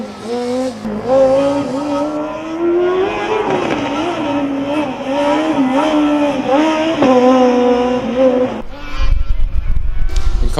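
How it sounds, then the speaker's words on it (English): A combustion Formula Student race car's engine wails loudly at an autocross, pitch rising and dipping as it shifts and brakes through a chicane, then fades into rumbling noise. "the Coburg car sounds a lot more pleasant to my ears as they complete a very tidy line through the chicane"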